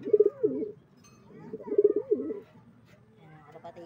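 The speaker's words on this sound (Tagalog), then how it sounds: "Ayan ang ating kalapate na flyer." A racing flyer pigeon coos up close in two rolling, throaty phrases, with a softer murmur at the end.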